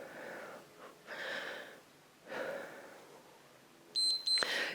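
An electronic workout interval timer beeps a few quick tones near the end, following heavy breathing during a dumbbell and tubing exercise session.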